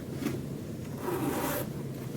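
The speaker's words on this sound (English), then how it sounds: "this one has a full zipper compartment right in the center" Zipper on the center compartment of a Disney Dooney & Bourke tote bag, a soft close-up rasp of the pull sliding along the track in two short strokes, quiet and unaccompanied.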